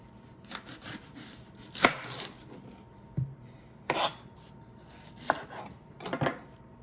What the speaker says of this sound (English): for this next part, I'm gonna cut up half an onion